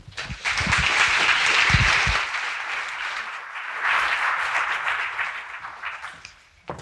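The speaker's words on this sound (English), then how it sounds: "let's give her a round of applause" An audience at a talk on agile marketing applauds for a speaker, a steady full-room clapping that swells and slowly fades, with a few loud close claps at the start.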